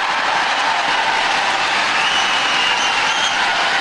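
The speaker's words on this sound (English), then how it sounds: "And the crowd on their feet" A packed arena crowd at the 2009 BWF World Championships men's doubles final roars and applauds in a loud, dense, unbroken wash of cheering that holds steady throughout.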